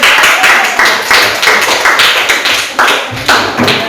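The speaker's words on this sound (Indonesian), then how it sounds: "Tepuk tangan dulu sekali." A classroom group in an Indonesian teacher-training session claps after a group presentation: loud, close, rhythmic applause in regular bursts that keep a steady beat, with no talking over it.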